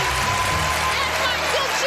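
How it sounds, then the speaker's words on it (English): A TV studio audience at a magic show applauds in a loud, dense, continuous burst, with a voice speaking over the clapping and crowd noise. "give a big round of applause to my helper, Alison, and our star of the show, Henry"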